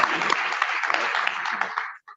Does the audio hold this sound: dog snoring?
no